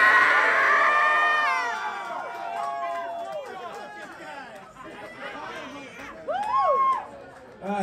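A concert crowd at a metal show in Chicago's Cobra Lounge cheers and shouts, a dense wash of many voices loud at first and then thinning, with individual whoops rising near the end.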